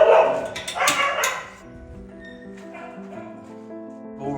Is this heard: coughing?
no